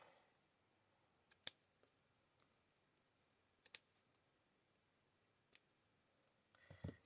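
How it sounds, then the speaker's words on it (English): A few sharp, quiet snips of scissors cutting ribbon, spaced seconds apart in an otherwise silent room. "use a nice sharp pair of scissors on ribbon"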